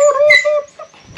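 A dog at a rural farm whimpers close by, a loud high-pitched whining cry that wavers and fades over about a second.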